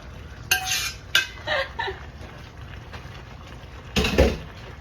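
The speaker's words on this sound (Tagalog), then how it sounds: "Let's mix it." Rigatoni pasta being mixed in a pan gives several separate scraping clanks of utensil against metal, close and sharp, with a final louder stir near the end.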